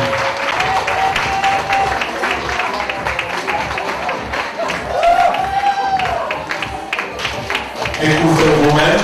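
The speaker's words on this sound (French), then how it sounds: "nous applaudissons les belles créatures qui arrivent là" An audience applauds a women's rights parade in a hall, continuous crowd clapping with a presenter speaking over it and background music, loudness rising near the end.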